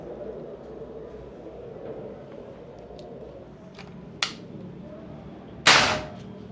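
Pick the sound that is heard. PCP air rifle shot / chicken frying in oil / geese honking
PCP air rifle shot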